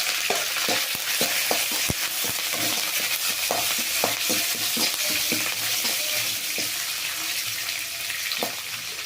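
Curry leaves and green chilies sizzle steadily in a little oil, broken by repeated scraping and tapping strokes of a spoon stirring the pan, close and without talk.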